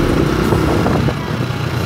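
A motorcycle engine roars steadily and loudly up close as the rider accelerates along a short straight, with heavy wind and rumble throughout.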